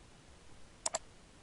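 A quick mouse double-click, two sharp close clicks in rapid succession, heard alone against a faint quiet background while working in Dreamweaver software.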